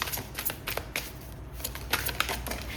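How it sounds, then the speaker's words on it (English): A deck of oracle cards is handled and shuffled up close, giving a rapid, crisp run of papery flicks and riffles with short, uneven pauses. "Now let's grab these oracle cards."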